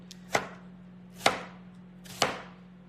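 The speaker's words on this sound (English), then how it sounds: "I'm chopping an onion." A knife strikes a cutting board three times at an unhurried, even pace while an onion is sliced into thin strips, each chop a crisp, close thunk over a faint steady hum.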